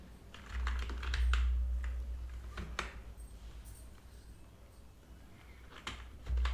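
Computer keyboard keys clatter in quick bursts of typing while a MySQL table is created, with short pauses between flurries of close, crisp clicks and a low background hum.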